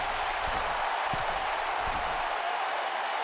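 Capacity crowd at a women's wrestling match applauding steadily, a dense continuous wash of clapping and crowd noise with no clear voices, holding level for the whole stretch.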